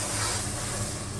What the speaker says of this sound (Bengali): কড়াইতে আমি জল দিলাম।